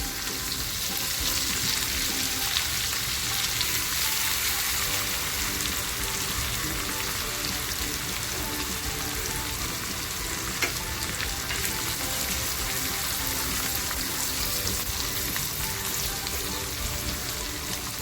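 Crushed green chili and garlic fry in hot oil in a pan for a spicy Konkani wet-cashew usal, giving a steady, dense, close sizzle that holds evenly for the whole stretch with no talking.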